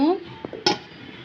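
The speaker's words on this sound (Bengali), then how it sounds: "এখন আমি ঢাকনা দিয়ে ঢেকে দেব।" A lid is set down on a metal cooking pot while small mola fish chorchori is being prepared, giving one short clatter followed by a faint clink of the rim settling, close by and with no voices.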